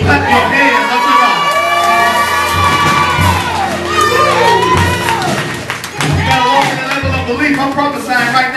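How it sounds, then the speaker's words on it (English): A church congregation claps and cheers loudly, with many voices shouting and whooping together in a dense, continuous crowd roar. "Clap your hands up to God."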